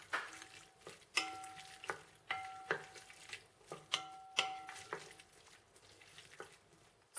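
Cornbread casserole batter with canned corn being stirred in a bowl: a series of soft wet scrapes and clicks in a slow, uneven rhythm, quiet and close, with light sizzle-like texture between strokes and no talk.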